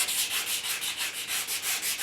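Sandpaper of 120 grit rubs back and forth on an English walnut HW80 air rifle stock, a steady rhythmic hiss of even strokes, close and alone.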